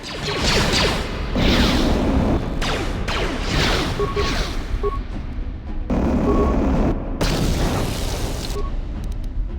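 Grenade blasts in the Star Wars KotOR video game: loud, dense booms with whooshing bursts rolling almost continuously through a busy combat mix, with several sharp impacts close together.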